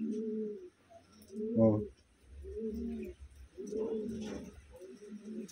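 Pigeons coo close by in soft, rolling, repeated calls, with brief pauses between phrases and a low murmur in the background.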